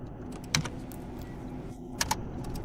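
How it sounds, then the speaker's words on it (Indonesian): Computer keyboard being typed on to enter a browser search, with soft scattered keystrokes and two sharper clicks standing out over a steady low background hum. "Dan sekarang saya akan mengetik pencarian Audacity untuk sistem operasi Linux."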